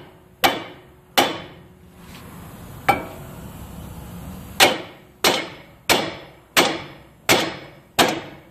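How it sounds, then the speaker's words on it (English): A hammer strikes a Toyota Camry's outer tie rod repeatedly, sharp ringing metal blows, first a few spaced hits then a steady run of evenly timed strikes, close up. "we're not using the the outer tie rod, so we're gonna hit it with the hammer"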